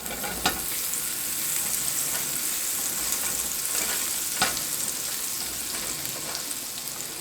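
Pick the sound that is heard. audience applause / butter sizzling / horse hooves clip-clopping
butter sizzling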